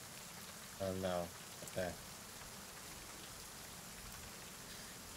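Steady hiss of falling rain fills the background as a faint, constant ambience, with two short bits of speech near the start.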